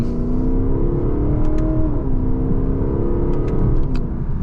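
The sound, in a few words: Lexus LC500 V8 accelerating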